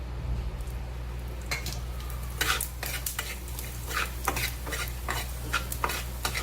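Whole coriander seeds roast in a little oil, giving a low steady sizzle under repeated sharp scraping stirs of a utensil against the pan, close and moderately loud, with no talking.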